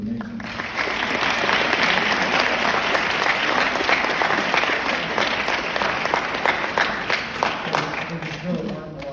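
Audience at a school choir awards ceremony applauds with steady, dense clapping that holds for several seconds, then thins slightly near the end as a voice starts.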